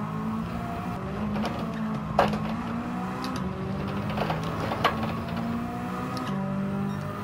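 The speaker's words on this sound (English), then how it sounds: "Working the car on the throttle." A WTC700 build car driven on the throttle, its engine holding a steady droning note with small pitch shifts and a few brief knocks, continuous and fairly close, no voices.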